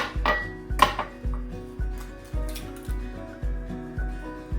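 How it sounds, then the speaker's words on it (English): An egg beaten in a small bowl, heard as a steady, rhythmic series of about ten quick knocking strokes, close and clear with no talking. "The egg, we're gonna go ahead and mix in one of these little tiny bowls, and then we're gonna add it into our flour"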